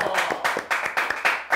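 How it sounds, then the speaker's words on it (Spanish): A small group claps in short bursts on a Spanish-language talk show, the sharp, uneven claps rising and falling over a second or two, with speech nearby. "Un aplauso."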